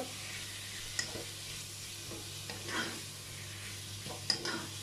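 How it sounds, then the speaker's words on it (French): Pork chops sizzle in a hot pan, a soft steady frying hiss with a few light clinks and stirring scrapes close by. "Alors ici, vous cuisez votre viande."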